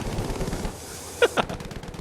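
Machine gun fire from a Bf 109 fighter plane in Battlefield V: two short, sharp bursts close together over a steady engine drone.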